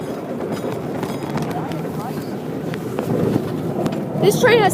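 Heard from inside one of its seven cars, a small tourist train on the Smith Ranch and Julian Railroad clatters along its track with a continuous rattling rumble, while people talk in the background.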